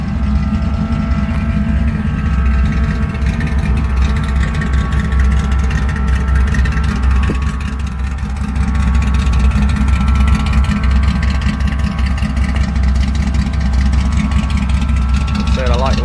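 Car engine with mufflers and no tailpipe tips idles to warm up, a steady low rumble holding even and close throughout, with a brief dip in level near the middle.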